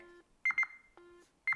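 A Nintendo Switch 2 controller beeps from its built-in speaker, a few short electronic tones alternating in a quick pattern, close and clear with no one talking.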